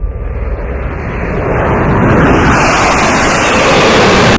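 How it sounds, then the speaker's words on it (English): Navy jet planes approaching in an animated scene, a loud broadband roar that swells and builds steadily, with no voices. "Just then, Navy planes are seen approaching."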